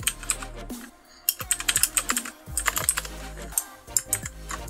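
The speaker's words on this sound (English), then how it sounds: "So this is going to be a little bit of typing." Rapid, uneven clicking of keys on a computer keyboard, close and clear, with short pauses between bursts of typing.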